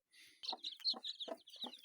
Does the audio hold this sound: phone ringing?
no